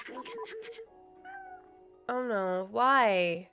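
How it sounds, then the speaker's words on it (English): A cat in the video game Stray lets out two loud, drawn-out meows near the end, close and strongly pitched, after a brief spoken line and some soft game sounds. "That's a cat. That's how cats do."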